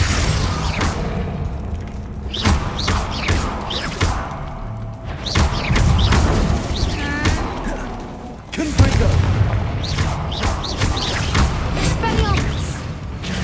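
Spell blasts and explosions in Hogwarts Legacy land as a dense run of loud booms, thuds and crashes, with voices shouting over the combat throughout.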